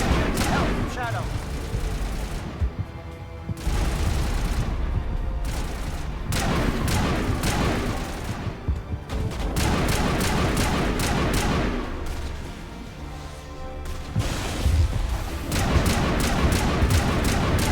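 Sustained assault rifle gunfire in the video game Mass Effect, dense repeated bursts with brief pauses, loud and continuous, mixed with booms and someone talking over the shooting.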